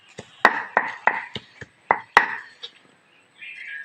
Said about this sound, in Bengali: তোমরা প্রথমে মাংসটাকে এরকম ছেঁচে নেবে